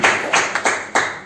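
A church congregation at a Sunday service applauds in a few sharp, uneven bursts of clapping, close and moderately loud, with no voices over it.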